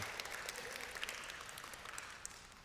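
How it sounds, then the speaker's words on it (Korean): A church congregation claps in welcome for two visiting women, a faint, soft patter of applause that fades gradually and stays fairly even across its short span. "저희가 환영의 박수 한번 쳐드리겠습니다"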